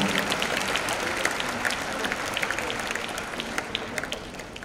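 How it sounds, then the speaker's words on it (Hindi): Children at an International Yoga Day celebration clap loudly after a video, a thick, continuous wash of crowd applause with scattered sharper individual claps, close and energetic throughout. "इस शानदार वीडियो के बाद एक बार जोरदार तालियां सभी बच्चों की तरफ से अपेक्षित है।"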